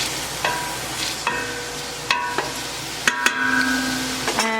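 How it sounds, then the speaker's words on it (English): Onions sizzle in a pot in a steady frying hiss, with a utensil stirring and clinking against the metal several times throughout. "I just want to cook the onions until they're mostly translucent."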